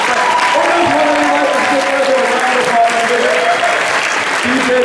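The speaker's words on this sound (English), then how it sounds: "please give a nice big round of applause" A big crowd at Boston Comic Con gives loud, steady applause for cosplayers in a costume contest, dense clapping and cheering sustained throughout.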